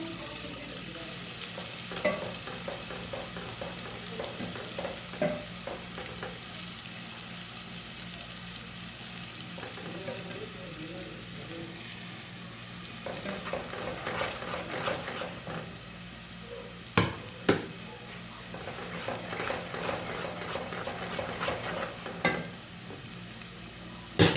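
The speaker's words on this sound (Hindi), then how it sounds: "लहसुन को 1 मिनट तक पका लेंगे, फिर इसमें सूखे मसाले डालेंगे।" Garlic and dry spices fry in a pan for a turnip-and-pea curry, a soft steady sizzle with occasional stirring scrapes and a few sharp spoon clinks near the end.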